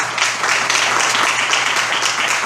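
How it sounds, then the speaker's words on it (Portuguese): A church congregation claps together in sustained, even applause at a worship service, dense and continuous throughout with no pauses. "Pode dar uma salva de palmas de Deus aí?"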